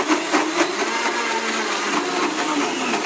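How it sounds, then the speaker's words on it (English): A blender runs on medium, whirring steadily through coconut smoothie with plain yogurt, loud and close for the whole stretch with no voices. "Now blend this on medium for 30 seconds,"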